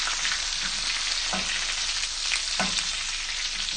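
A ribeye steak sizzles hard in a hot pan as it is basted, giving a dense, continuous hiss with faint spoon clinks and sputters. Nobody speaks over it.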